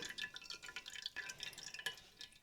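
Lye water, mixed with dissolved tussah silk fibre for soapmaking, drips and trickles through a kitchen sieve as it is pressed, giving a quick, irregular patter of small close drips with no talking.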